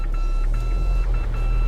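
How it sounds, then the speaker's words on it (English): A repeated electronic traction control warning beeping, short tones in quick succession, over a low engine drone inside a new Isuzu D-Max during 4x4 testing. "Okay, stop beeping."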